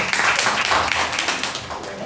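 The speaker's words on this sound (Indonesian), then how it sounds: "Yuk tepuk tangannya juga untuk Pastor Benny ya" A church congregation claps for Pastor Benny during a worship service, a dense, steady patter of many hands filling the room at full volume for the whole stretch, with some voices mixed in.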